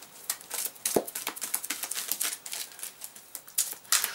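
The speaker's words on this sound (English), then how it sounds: "So you just shuffle the deck." A deck of printed game cards for the Zed Deck print-and-play card game is shuffled, giving a quick run of dry, crisp card clicks and flutters up close, with no talking.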